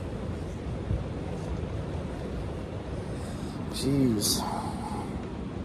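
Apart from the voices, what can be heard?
strong wind buffeting an RV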